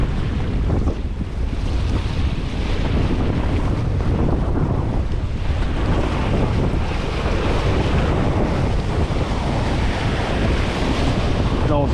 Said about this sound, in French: Ah ouais, belle rafale.